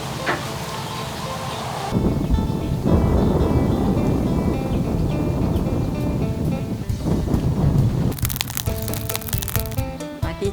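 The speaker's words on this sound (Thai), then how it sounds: "ฝนตกลงมา" Steady heavy rain roars outdoors for the whole stretch, loud and continuous, with a deeper rumble building through the middle like thunder and sharper crackling hiss near the end.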